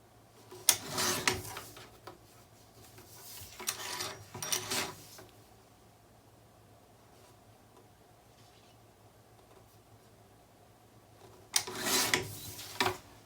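Patterned paper trimmed for a Stamperia Imagine mini album: a couple of rasping slides of the trimmer blade close together early on, a long quiet stretch of low hum, then one more cut near the end, with nobody talking.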